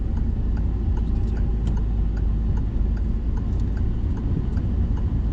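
A car idling and pulling away from a stop sign during a driving lesson in France, a steady low engine rumble with faint ticking from the indicator, close and continuous with no talk.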